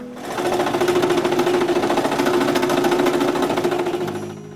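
A scroll saw cuts maple intarsia pieces, buzzing steadily and rapidly with a fast reciprocating chatter, loud and close, running without pause before easing off at the end.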